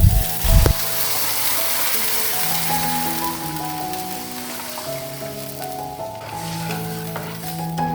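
Rock sugar, cinnamon and star anise stir-fry in a pot for home-style braised chicken and eggs, giving a loud, steady sizzle with a brief scrape of stirring at the start, while gentle music plays underneath.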